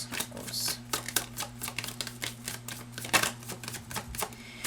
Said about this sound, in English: I'm gonna get 2 more cards